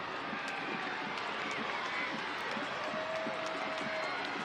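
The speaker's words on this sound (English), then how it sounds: "Might be the biggest cheer of the night from Phoenix Rising as the flag came up." Stadium crowd at a Phoenix Rising FC pro soccer match against Colorado Springs Switchbacks erupting into a sustained cheer as the offside flag goes up; a dense, steady roar of many voices with no break across the whole stretch.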